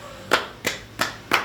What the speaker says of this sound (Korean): 일단 박수 한번 주세요.